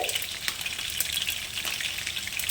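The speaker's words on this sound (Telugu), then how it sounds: "ఆవాలు చిట్టుపడిలాడిన తర్వాత స్టవ్ తగ్గించి" Mustard seeds crackle and splutter in hot oil as a tempering for a ridge gourd curry, a dense, steady sizzle with sharp little pops scattered throughout, close and alone.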